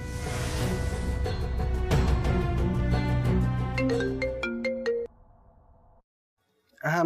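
A mobile phone rings with a bright, melodic ringtone that plays loud and close for about five seconds, cuts off into near silence, then briefly starts up again at the end.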